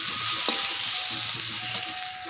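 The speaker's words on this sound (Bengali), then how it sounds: "আলুগুলো লাল করে ভাজা হয়ে গেছে," Potatoes fry in mustard oil in a kadai with a loud, dense, continuous sizzle, close up. One brief clank of a stirring utensil breaks in early. No one speaks.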